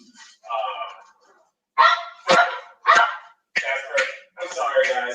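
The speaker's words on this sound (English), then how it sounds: "This is live TV, where the animals bark." A dog barks and yips in a series of short, sharp bursts in a live TV studio during a people-and-pets show, the barks loud and close.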